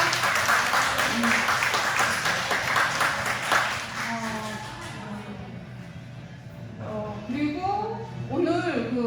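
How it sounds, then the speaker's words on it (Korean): Applause and clapping from an audience at a children's ministry church service, loud and steady for the first few seconds, then tapering off as voices talk over it. "박수 쳐주세요."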